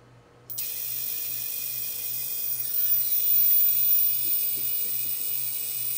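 Brushless motor on a TBS Vendetta racing drone spins up clockwise, a sudden high, steady whine with a faint pulsing undertone that holds on its own throughout.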